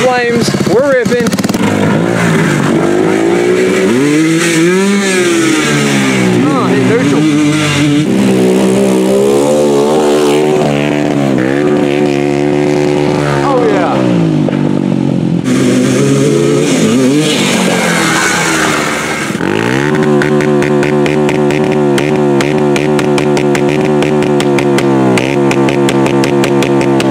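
A Honda TRX250 and a Yamaha Blaster ATV rev hard at night, loud two-stroke engine tones rising and falling through gear changes and pops, with a voice heard over the engines.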